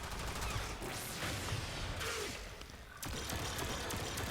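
A Synoid Simulor weapon firing in the video game Warframe, with loud, dense bursts of synthetic shots and whooshing sweeps, a brief drop near the middle before another burst resumes, with no talking.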